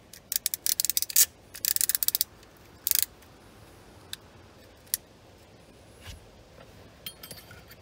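A utility cutting knife gets a fresh blade loaded during a Smart Fortwo 451 armrest install, heard as bursts of quick ratcheting clicks up front, then a few isolated sharp snaps spaced out over quiet background.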